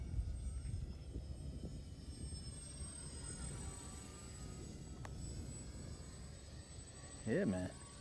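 An E-Flite Micro Draco 800mm RC STOL airplane flies with a steady, fairly faint electric motor whine over outdoor wind noise, and a brief louder pass comes near the end.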